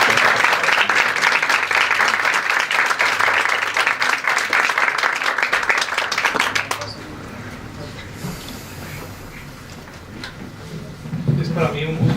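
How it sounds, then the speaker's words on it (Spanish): Lecture audience giving a strong welcoming applause for a speaker on ethics and political philosophy, dense clapping for about seven seconds, then fading to scattered claps, rustling and room noise. "Para quien pido un fuerte aplauso y lo recibimos."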